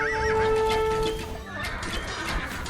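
A horse in a medieval strategy video game with Seljuk forces gives a loud, clear whinny, followed by softer game sounds. No speech is heard.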